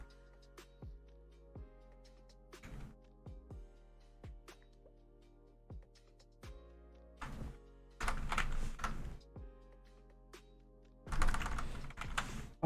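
Computer keys are typed in scattered bursts, with separate taps early on and then quicker clattering runs, heard close and fairly quiet over a low steady hum.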